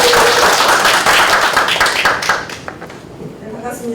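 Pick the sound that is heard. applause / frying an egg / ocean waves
applause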